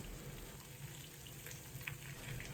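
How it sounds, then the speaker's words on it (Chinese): Green beans are stir-fried in a hot wok with soy sauce, salt and sugar, giving a steady, close sizzle and crackle with faint scraping throughout and no talking. "继续翻炒扒拉均匀，将调料全部化开。"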